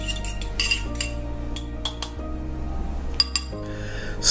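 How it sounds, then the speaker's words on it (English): Milk being stirred into a beaten egg mixture in a bowl, heard as steady clinking and scraping of a utensil against the dish, fairly close and continuous with occasional sharper taps, with no voices. "then we're going to add the milk in and mix those together"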